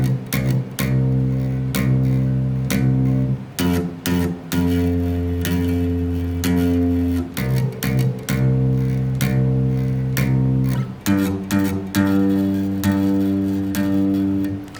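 Bass guitar playing a verse pattern, with short stopped notes followed by longer sustained ones in a repeating phrase, loud and clear with no talking over it.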